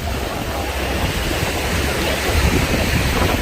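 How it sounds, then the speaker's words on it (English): Strong wind roars across the microphone on Tsilivi Beach, Zakynthos, at night, with waves washing in underneath as a loud, continuous, broadband rush that swells slightly toward the end. "It's really windy, guys."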